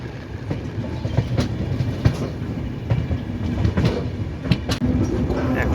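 A train rolls into NJP (New Jalpaiguri) station, its wheels and carriages rumbling steadily with clickety-clack beats and occasional sharper knocks, loud and close throughout.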